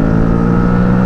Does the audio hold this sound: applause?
no